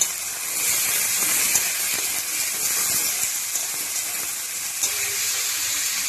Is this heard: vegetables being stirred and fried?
yes